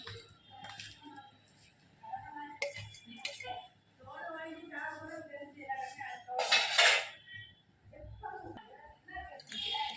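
Grated plantain being stirred with salt in a kitchen pan, the utensil clinking and scraping against metal in short irregular bursts, with speech underneath.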